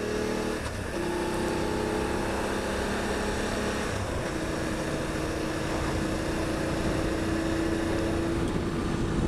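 A 2020 BMW F850 GSA motorcycle builds speed on a road after cruising, its engine drone loud and steady with rising tones and heavy wind rush throughout.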